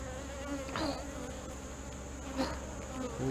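Honeybees buzzing steadily at an open hive during an inspection, a continuous close drone with a few louder passes of bees flying near, no talk over it.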